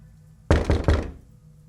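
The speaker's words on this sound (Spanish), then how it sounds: "Pronto tocaron a la puerta 3 veces" Three loud, close, evenly spaced knocks on a door after a quiet start, each a sharp thump that fades into a short decay.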